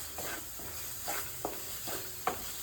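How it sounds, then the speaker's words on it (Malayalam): Mushrooms being stirred into garam masala in a frying pan, several soft spatula scrapes over a quiet steady sizzle, close and without speech. "അപ്പം നമ്മളിപ്പോൾ ഇത് ഇട്ടിട്ട് ഇളക്കി കൊടുക്കുകയാണ്"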